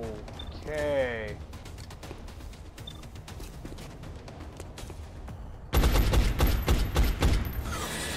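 Gunfire rattles in the video game XCOM: Enemy Unknown, first as scattered shots while someone talks, then as a loud burst of rapid fire near the end.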